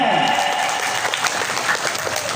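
Applause from an audience at a student demonstration at an Indonesian Islamic boarding school, a brief burst of mixed clapping under and alongside a voice speaking.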